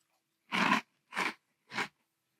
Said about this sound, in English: let's try Cheerios Protein Cinnamon in milk.